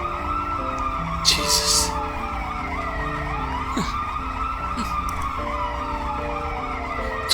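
An ambulance siren wails in a video game, its rising and falling tone sweeping repeatedly over steady background noise, with a brief burst of noise and a short spoken exclamation.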